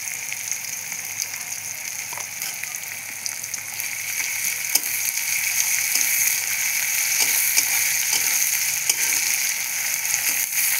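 Onions and salt fry in a pan as the base for a chicken curry, a steady bright sizzle with scattered pops and crackles that builds slightly louder partway through, close and with no talk.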